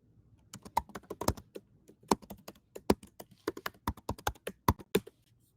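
Computer keyboard keys being typed on during a login attempt to a network device, a steady run of crisp, close clicks and taps with brief pauses, no talking.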